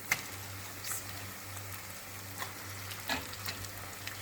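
Meat sears in a hot pan alongside fried onions, a soft, steady sizzle broken by occasional light clicks and taps of a utensil over a low hum.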